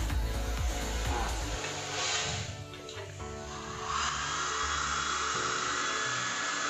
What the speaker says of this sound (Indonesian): kita keringkan dengan menggunakan hair dryer